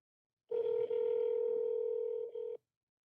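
Telephone tone sounding while dialing a congressman's office, a steady electronic tone of about two seconds with a tiny break near the end, fairly faint and alone.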